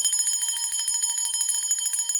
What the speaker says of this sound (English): I like to ring the bell to dissipate and scatter the energies of any lingering dark forces